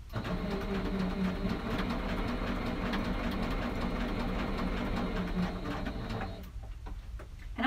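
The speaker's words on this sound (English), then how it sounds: "lower the presser foot, and begin stitching" A sewing machine stitches raw edge appliqué on a quilt, running in a steady, close, continuous whir for most of the span, then easing off and stopping near the end.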